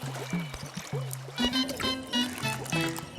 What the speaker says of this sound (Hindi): ये आधी बोतल मैंने पी ली, आधी लेकर जाऊंगा तो मुझ पर चिल्लाएंगे, इसीलिए पानी भर रहा हूँ।